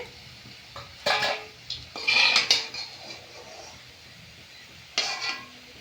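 Fried banana-flower fritters are lifted one by one from a pan of oil, with sharp metal clinks of a spoon against the pan in short bursts over a quiet background sizzle, close up with no talk.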